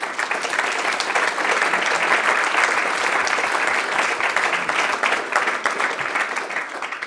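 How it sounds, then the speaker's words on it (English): Sustained audience applause at the close of a talk on foreign policy and global security, a dense, steady wash of many hands clapping throughout with no voices over it. "I think this is worth another applause"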